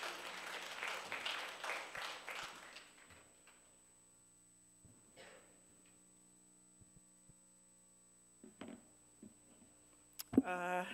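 Applause from an audience at a church gathering, a short burst of clapping that fades within a few seconds, followed by near silence with scattered small clicks and a brief voice at the end.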